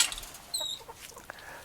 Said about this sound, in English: so the chickens have this whole space here.